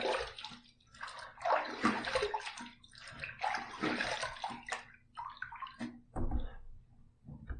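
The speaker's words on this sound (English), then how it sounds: "Let's rinse." Tap water running and splashing while a razor is rinsed after shaving, uneven bursts of flow and sloshing with brief pauses, close and fairly loud.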